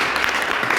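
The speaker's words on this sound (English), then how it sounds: "clap for him" A classroom of students claps for a classmate, a short burst of dense, continuous applause with no voices.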